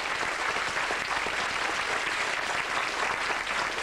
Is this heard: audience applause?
yes